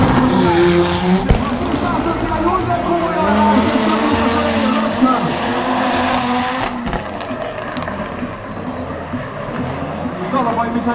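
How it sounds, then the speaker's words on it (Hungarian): Drift cars at the Hell Drift event in Máriapócs roar and skid with steady tire squeal and engine noise, loud and continuous, while a commentator talks over the din. "Szalvai, mintha egy kicsit erősebb szöget autózott volna"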